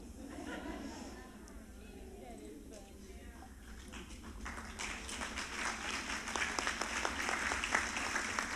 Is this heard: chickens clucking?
no